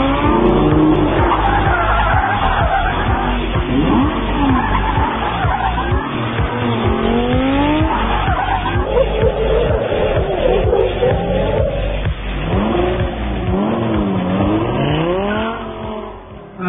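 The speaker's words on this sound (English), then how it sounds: "when you turn the key on and you start and you go and you drive the car" A Lamborghini LP 550-2 drives hard, its loud engine note sweeping up and down through gear changes with tire squeal and skidding, continuous and close for the whole stretch.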